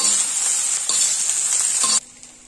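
Egg fried rice being stirred with chicken fried rice sauce in a hot pan, giving a steady close sizzle and scraping hiss that cuts off abruptly near the end.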